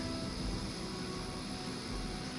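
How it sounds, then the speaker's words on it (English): Hydra helicopter in a superhero deck-building video game, a steady droning engine roar that holds at an even level throughout, with no voices over it. "Disable the Hydra helicopter before it can depart."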